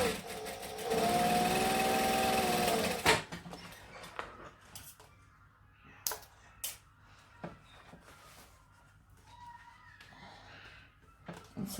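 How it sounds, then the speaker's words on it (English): A sewing machine top stitching along fabric: a steady whirring run of about two seconds, close and loud, then stopping, followed by soft clicks, taps and fabric handling. "then I'm just going to top stitch"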